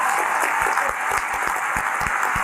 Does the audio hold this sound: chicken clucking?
no